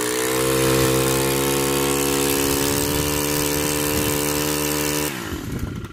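A gas string trimmer engine runs at a steady, loud whine with strong harmonic tones for about five seconds, then cuts off abruptly, leaving a brief rattle of it winding down.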